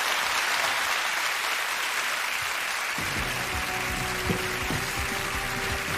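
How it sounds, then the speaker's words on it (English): Steady applause from a large television game show studio audience fills the whole stretch, loud and continuous, with a faint hum rising beneath it partway through. "Round of applause!"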